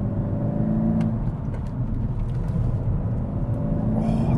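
A Mk2 SEAT Leon Cupra R driven hard through corners, its engine holding a steady, loud drone with a constant road and tyre roar underneath and no pauses.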